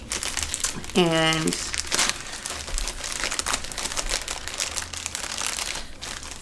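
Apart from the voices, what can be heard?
cutting open a mail package, crinkling packaging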